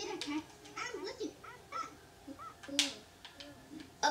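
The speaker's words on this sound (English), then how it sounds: "I just hit a cat." Cat meowing in a video game after being struck, several short mewing cries scattered among game sounds and faint background noise, moderately loud.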